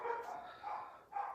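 A dog barks three times in quick succession, the barks faint and muffled as if from another room, evenly spaced with brief gaps.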